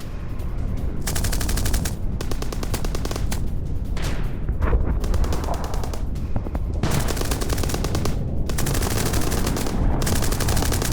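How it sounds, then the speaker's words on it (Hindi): Bursts of gunfire from a Bradley fighting vehicle attacking Russian positions, loud rapid volleys repeating in rhythmic strings with brief gaps between them. "ब्रेडली से रूसी सेना पर निशाना, रूसी बंकर को तबाह करने का दावा विद अ वीडियो"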